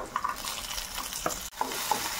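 Green peas tipped into a pan of frying onions over a high gas flame, giving a steady sizzle with a few soft stirring scrapes and one brief clack near the middle.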